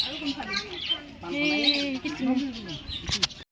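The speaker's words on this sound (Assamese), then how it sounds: "কি ধুনীয়া চৰাই লাভ বাৰ্ড হয় এইকেইটা" High, thin lovebird chirps twitter close by, mixed with a person speaking over them, before the sound cuts off suddenly.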